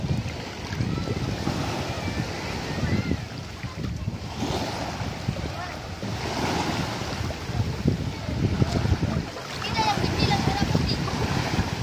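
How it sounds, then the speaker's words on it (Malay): Strong wind buffets the microphone while waves surge and wash continuously onto Nambo beach at rising tide, a loud, steady roar throughout. "Semakin kencang anginnya, airnya juga mulai pasang."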